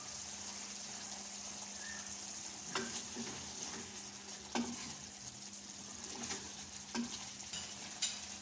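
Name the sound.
frying chicken karahi with masala in a pan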